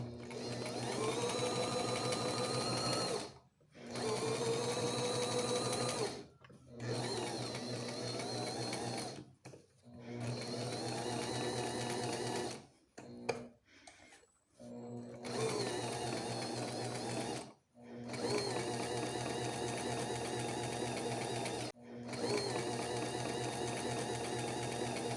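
A sewing machine stitches a seam in fabric with the presser foot lowered, running in steady bursts of several seconds separated by short pauses, with the motor's hum and needle chatter clear and close.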